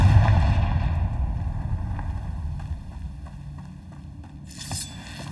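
A Confringo explosion spell in the Hogwarts Legacy video game on hard difficulty lands as a heavy, rumbling blast that starts loud and slowly fades over several seconds into a low, windy roar, with a brief burst of hiss near the end.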